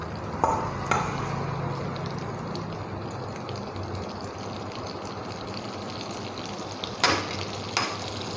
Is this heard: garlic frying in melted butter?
yes